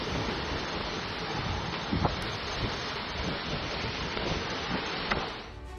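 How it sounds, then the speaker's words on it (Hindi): Heavy rain pours in a dense, unbroken roar, with soft rumbles of thunder rising underneath and a few sharper cracks, fading slightly at the end. "रात भर होती रही तेज बारिश"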